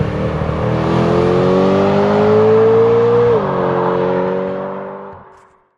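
A BMW M3 E92's S65 V8, which revs to 8,400 RPM, roars loud and close in one sustained rev that climbs steadily, drops sharply partway through, holds, then fades away.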